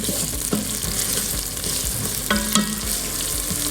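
Oil and spices sizzle and crackle steadily in a hot electric pressure cooker pot, with occasional stirring scrapes and a few sharper pops over a continuous frying hiss.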